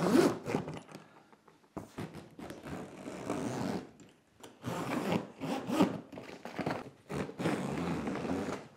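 Big, thick zippers on a grow tent being zipped, a long rasping drag repeated in several sustained pulls with short pauses between, close and fairly loud.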